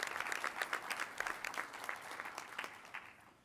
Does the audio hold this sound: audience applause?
yes